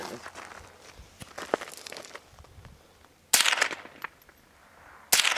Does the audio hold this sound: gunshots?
yes